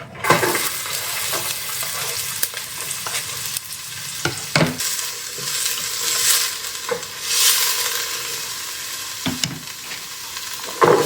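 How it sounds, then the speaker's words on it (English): Chopped onion hits hot olive oil in a soup pot, giving a loud, steady sizzle with bursts of stirring and scraping throughout, no talking. "Gonna add some olive oil. The onion."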